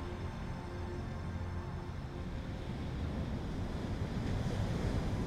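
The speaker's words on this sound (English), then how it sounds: "Now start looking at the ocean waves coming into the shore." Ocean waves roll onto a beach at sunrise, a continuous broadband wash of surf that swells slightly toward the end, mixed with some wind buffeting on the microphone.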